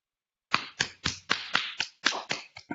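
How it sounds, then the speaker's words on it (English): Applause from an awards day gathering: a run of sharp, spaced claps, roughly nine or ten distinct hits over a couple of seconds, fairly close and moderately loud, sounding like a small group or few hands rather than a large crowd. "ask that everyone give David an additional round of applause"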